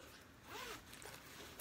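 A zipper pulled along the back zip pocket of a Kipling bag, one close, continuous rasping run of about a second with no talking.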